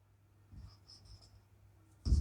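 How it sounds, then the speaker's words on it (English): An equation being written by hand, likely chalk or pen on a board, as a few faint scratchy strokes over quiet room tone, ending in a louder bump. "I write"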